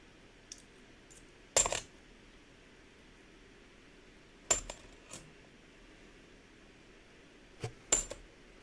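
Coins clinking and dropping as rolls of change are gathered and counted, a few sharp metallic bursts spaced out over a quiet background, close by with no talking.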